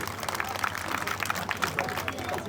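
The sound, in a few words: audience applause for an owl named Archibald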